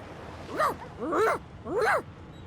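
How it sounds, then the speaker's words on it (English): A dog in the fantasy role-playing game Divinity Original Sin whining three times in rising and falling whimpers, each about half a second long, close and clear over a low background. "The dog whines and continues pawing at its nose."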